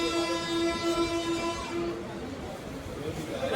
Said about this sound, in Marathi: सोलापूर ट्रेन आहे,